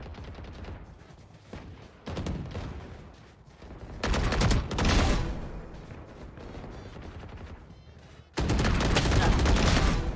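Bursts of rapid gunfire from a shooter video game come in loud, dense volleys, broken by quieter gaps, with a voice talking faintly underneath at times.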